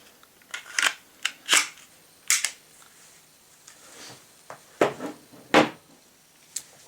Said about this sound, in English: So let's put the guns together again.